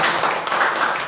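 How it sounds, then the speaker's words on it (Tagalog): A church congregation applauding together, a dense, even burst of clapping that fills the space for about a second, loud and close. "Pinagpalakpak mga kapatid."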